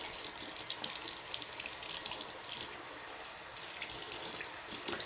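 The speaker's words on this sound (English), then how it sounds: "And we just rinse, rinse, rinse now." Tap water runs steadily over hair extensions being rinsed in a sink, a soft continuous hiss and splash, fairly quiet and close, with no talking.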